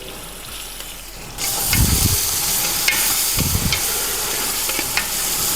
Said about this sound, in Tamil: அடுத்ததாக வந்து இஞ்சி பூண்டு பேஸ்ட்டு சேர்க்க போகிறோம்